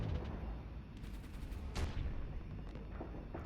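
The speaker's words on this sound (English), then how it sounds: "Siege cannon missed, I think." Siege cannon fire in a space battle video game with carriers, heard as a dense burst of booming gunfire-like blasts, with a sharp crack near the middle over a continuous rumbling battle backdrop.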